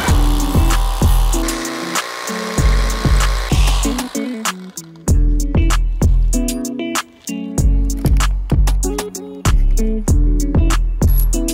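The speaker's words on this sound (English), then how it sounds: "We want to drill to the depth of the neck of the masonry bit." A power drill with a masonry bit bites into concrete in a steady series of short, loud bursts, each rising then cutting off, about a dozen in a row.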